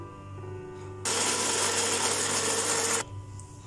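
A kitchen mixer grinder coarsely grinds ingredients for banana flower vada, a loud whirring burst of about two seconds between quieter stretches, with no talk.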